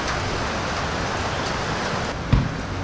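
Steady rain pours outdoors in a dense, even hiss, with one brief low thump near the end and no speech.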